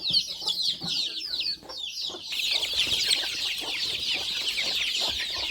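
Chickens offered for sale in pairs at a rural market cluck steadily and busily, close by and fairly loud, with overlapping calls and no talking.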